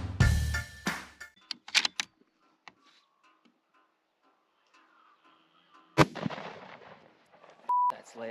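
A 6.5 PRC rifle fitted with a muzzle brake fires one sharp, loud blast in an open outdoor setting, with faint scattered clicks before it and a brief tone afterward.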